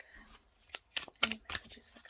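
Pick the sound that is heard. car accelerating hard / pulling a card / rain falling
pulling a card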